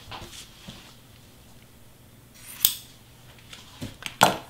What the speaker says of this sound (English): the only thing is I like to trim my ribbon